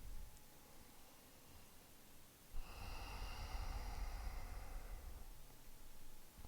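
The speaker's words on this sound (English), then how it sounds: "Take some big deep breaths." Slow, deep breathing during a yoga session, heard as one long, steady, airy exhale-like rush that starts near the midpoint and lasts about three seconds. It sits close and moderately loud against a quiet room, and no one speaks.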